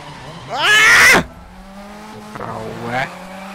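Car skidding in the video game The Crew 2: a loud, sharp burst of screeching tire squeal with rising engine revs, then a quieter engine hum and a second, softer squeal.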